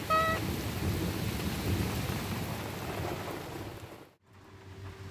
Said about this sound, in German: da gewittert es schon mächtig.